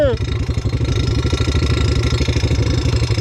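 A quad bike engine idles loudly and close by after its exhaust has fallen off, giving a raw, steady pulsing rattle throughout, with a brief laugh at the start.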